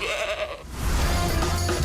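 Goats bleating from an argan tree in Morocco, a loud, dense chorus of overlapping calls that swells toward the end, with no talk over it.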